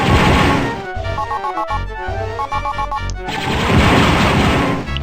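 Blaster rifle fire in the game Dark Forces: a rapid series of sharp electronic shots with crashing impacts, loud and close, over a dense background of game noise for about five seconds.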